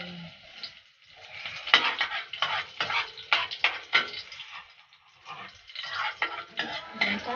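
Garlic goes into a pan for adobo, producing a bright sizzle broken by utensil scrapes and clinks against the pan, in uneven bursts with brief lulls, without any voices.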